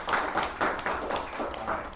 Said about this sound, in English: Applaud for these people.